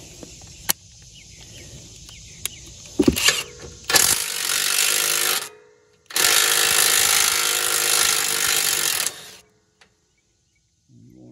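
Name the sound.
impact wrench removing mower skid plate bolts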